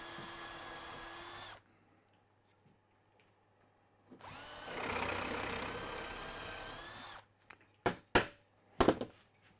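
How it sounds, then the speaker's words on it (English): A power drill bores a hole into a piece of wood in two sustained high whining bursts separated by a quiet pause, followed by a few sharp knocks and clicks close by. "I'll just drill a hole."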